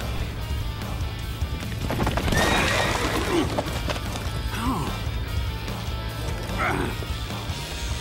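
In the video game Dynasty Warriors 9, horses whinny and neigh amid clattering hooves and a crashing battle din, loud and busy throughout, with several distinct neighs rising over the noise.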